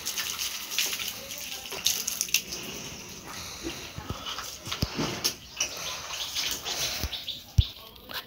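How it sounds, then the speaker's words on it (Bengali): Water poured into a cement mix while a toilet ring slab is cast by hand at a home site, a splashing, sloshing pour with scraping and clattering, plus faint bird calls in the background. "এটা আর একটু পানি দিয়ে নিচ্ছে।"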